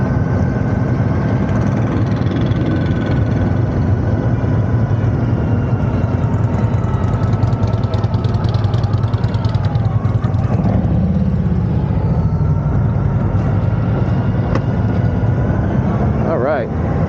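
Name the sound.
motorcycle engine at Sturgis rally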